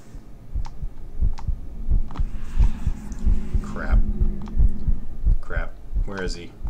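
Heartbeat effect in the Hatman: Shadow Ward video game, a steady, loud low thumping pulse repeating about every half second, with game sounds and occasional voice murmurs laid over it.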